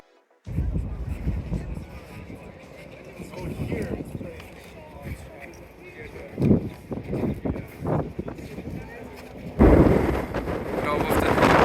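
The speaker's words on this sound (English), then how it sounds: "a lot of wind. It's super windy around here" Strong gusts on Governor's Island buffet the microphone with loud, rumbling surges that swell and drop irregularly, while people talk throughout.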